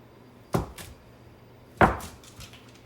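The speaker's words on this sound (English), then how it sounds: "And I'm gonna cut it in 4s again" A knife chops through gluten-free blueberry lemon scone dough on a board, two distinct firm thuds about a second apart, close and clear with no talk.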